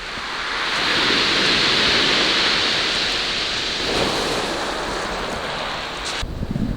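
Rough sea on the Crimean coast surges in a broad wash of surf, swelling and easing, mixed with gusty wind buffeting the microphone and a brief rustle near the end.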